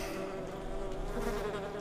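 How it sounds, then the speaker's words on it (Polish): Close, steady insect buzzing of a young housefly, a continuous droning hum that holds at an even level without pauses. "Pewnie ta mucha dopiero zaczęła przed chwilą życie, tak podejrzewam."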